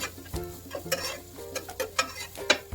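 Onion and capsicum pieces being stirred in a pan while cooking white sauce pasta, giving close, irregular scraping and soft sizzling strokes with no talking.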